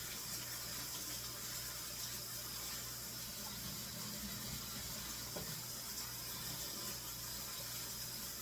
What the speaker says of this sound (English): Let me just give my hands a little wash.